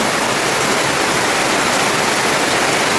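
A stream of rainwater gushes along a path during heavy rain in Mirik, Darjeeling, giving a loud, unbroken hissing rush that holds steady and close throughout.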